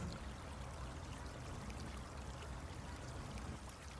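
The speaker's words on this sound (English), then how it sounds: "The sound of water falling, transforming from snow to ice to liquid." Water falls in a steady, even rush of broadband noise, like melting snow and ice running off as liquid, continuous and fairly close for the whole stretch with no voices.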